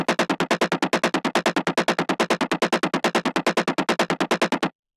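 A Roland SH-101 style synth arpeggio made in Omnisphere plays as a fast, even stream of short plucky notes, about forty in a row, loud and dry before stopping abruptly.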